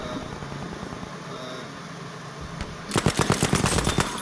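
Rapid automatic gunfire from the video game Battlefield V breaks out loudly in repeated bursts after a stretch of low ambient battlefield rumble.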